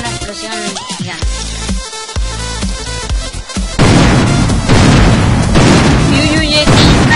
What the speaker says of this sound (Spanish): hubo una explosión gigante